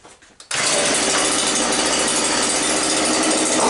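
A small engine that had sat for years, just back from a carburetor cleaning, catches after a brief rattle and settles into a loud, steady buzzing run close by.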